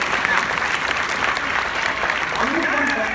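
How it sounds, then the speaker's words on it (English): A large conference crowd claps and cheers in a thick, continuous wash of applause, with voices mixed in near the end. "So guys, give a huge round of applause."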